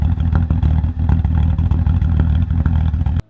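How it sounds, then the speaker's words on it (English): BMW E46 engine idling rough and running rich, a loud close-up mechanical rumble with uneven clattering pulses and irregular pops that cuts off abruptly at the end. "The car starts backfiring when it's idling."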